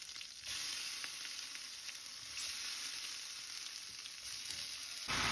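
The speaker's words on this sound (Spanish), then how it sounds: "Aquí tengo todo lo que voy a dorar, que es ajo, el tomate, la cebolla y el chile." Garlic, tomato, onion and chile brown together in a pan for red mole, a steady, even hiss of frying that swells louder near the end, heard close and alone.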